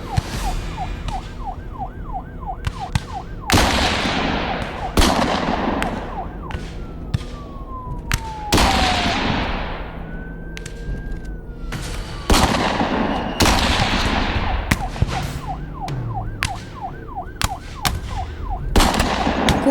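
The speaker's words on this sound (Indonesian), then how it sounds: "Baku tembak pun terjadi." Film gunfight with many sharp gunshots and bursts of gunfire, loud and close, set against wailing police sirens with shifting pitch.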